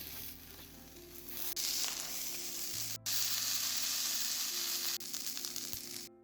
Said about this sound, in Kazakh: шаурманы сол майға аздап ғана қуырып аламыз.